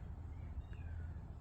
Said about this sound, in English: you can probably hear a cat in the background because we've got a new cat